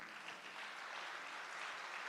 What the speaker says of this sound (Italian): un bel applauso per Roberto Tangiano